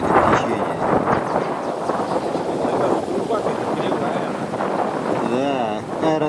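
Strong headwind roars across the microphone on the river Luga during a canoe trip downstream, a loud continuous rush with gusty texture, while a person talks over it throughout.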